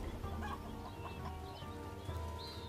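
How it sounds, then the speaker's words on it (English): A chicken clucks softly in the fantasy video game ArcaniA, faint, short calls over a quiet game ambience. "Easy, it's just a chicken."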